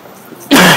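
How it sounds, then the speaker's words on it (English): One sudden harsh cough at close range, short and loud after a moment of quiet, from a person breathing street dust kicked up by vehicles after Hurricane Sandy at Rockaway Beach. "You can see I'm coughing a little bit from the dust that's kicking up on the street from the vehicles."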